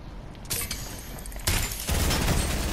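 Gunfire in the Fortnite video game during a Daily Cup match, with a burst of sharp shots and a louder volley toward the end over a busy, dense game background.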